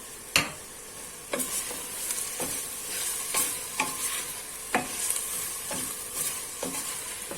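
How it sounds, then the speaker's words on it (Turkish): Green peppers sautéing over fried onions in a pan while being stirred for dry beans with meat, giving a steady close sizzle broken by a series of sharp utensil scrapes and taps at irregular intervals. "Kavrulan soğanlarımın üzerine ve üzerine şimdi biberlerimi ilave ediyorum."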